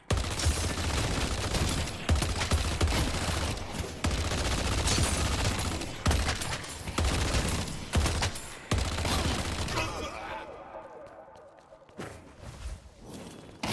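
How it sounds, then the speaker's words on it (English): Sustained gunfire from a video game shooter, rapid shots ringing out loud and continuous for about ten seconds before thinning into scattered bursts, with no talk over it. "Stop shooting the tower, man."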